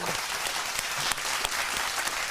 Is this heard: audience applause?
yes